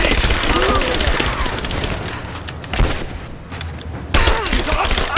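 Gunfire during a firefight in Rise of the Tomb Raider: dense, steady rattling shots overlap throughout, with heavier bangs punching through about midway and again near the end.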